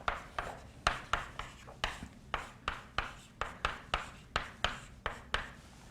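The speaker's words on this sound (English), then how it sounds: "let me write it as" Chalk strokes on a board during a quantum mechanics lecture, a steady run of about fifteen sharp taps and scrapes at a quick, even rhythm, close and clear with no talking over them.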